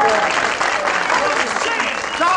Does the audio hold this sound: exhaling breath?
no